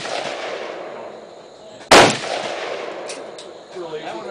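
A single sharp AK-47 rifle shot cracks loudly at an outdoor range, followed by faint background sounds and a few metallic clicks.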